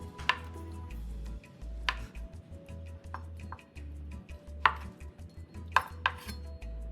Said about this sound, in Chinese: 鱼饼1个，切片后再切成条状。